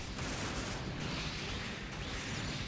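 Double Gatling cannons in the Gundam Breaker 4 video game fire as a continuous dense roar of rapid shots, loud and unbroken across the whole stretch, with no talk.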